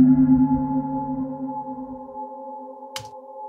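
Stereo contact mics capture a resonant, humming drone run through a delay effect, its layered tones ringing and slowly fading, followed near the end by a single sharp click.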